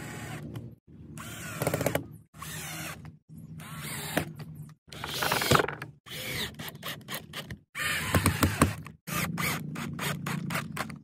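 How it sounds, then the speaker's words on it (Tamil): Power drill driving screws to fix plywood pieces onto a tyre, heard in repeated short bursts of whirring with brief pauses between each run, loud and close with no talking. "ஸ்க்ரூ போட்டு நல்லா ஃபிக்ஸ் பண்ணிப்போம்"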